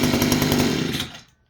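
A small-engine chainsaw from Temu runs with a loud, buzzing two-stroke roar up close, then cuts out and dies away to silence.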